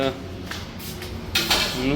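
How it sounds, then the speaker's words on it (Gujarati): Dishes and utensils clatter in a Gujarati village home, with two loud bursts of clinking and knocking at the start and near the end over steady room noise. "વાસણ"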